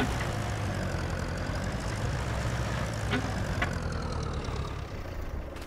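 A tractor engine idles steadily in Farming Simulator 25, a constant low rumble running the whole time, with a few faint clicks partway through and no voices.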